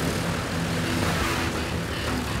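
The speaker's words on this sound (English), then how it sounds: "The engine's just chugging along nicely." Propeller engines of a 1930s airliner in flight, a loud, steady droning hum with a low rhythmic throb, heard from inside the cabin and running smoothly without any talk.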